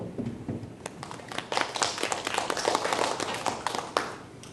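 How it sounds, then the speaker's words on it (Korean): Scattered applause from union members at a public servants' union election debate in Suncheon, a modest group clapping with distinct sharp claps over a room background, uneven and fairly close. "여러분 박수 한번 주십시오"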